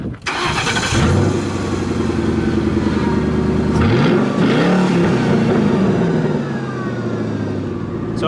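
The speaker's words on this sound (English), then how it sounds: "So I'm gonna go ahead and fire this thing up so you guys can see how easy it starts and how good it sounds." A Ford F100 pickup with a Crown Victoria engine swap cranks and fires up near 1 s, then settles into a steady, loud idle with a brief rev around 4 to 5 s, recorded close by.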